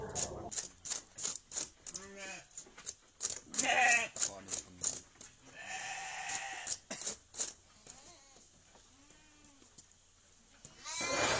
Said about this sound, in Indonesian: ini domba sudah merebahkan diri, berarti sudah mau siap-siap untuk keluar ini cempenya